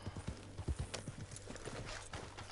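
Horse hooves clip-clop at a steady walking rhythm in Red Dead Redemption 2, crisp close hoofbeats with a soft background hum.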